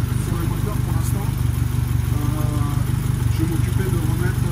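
A restored car engine idles close by with a steady, low, rhythmic throb that keeps an even pulse throughout the few seconds.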